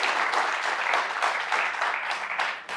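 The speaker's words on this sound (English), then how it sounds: "Please applaud this." Audience clapping at an alumni meet fireside chat, a brief steady round of applause, close and fairly loud, fading slightly at the end.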